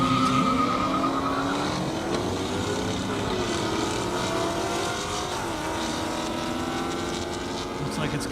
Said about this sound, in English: Now I got Greg coming up in a Mustang GT, Steve Crabtree in another Mustang GT.